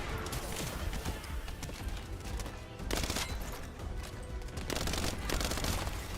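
Rapid, sustained SMG fire in The First Descendant, a dense unbroken rattle of shots that swells louder in a couple of bursts, close and steady throughout with almost no talk.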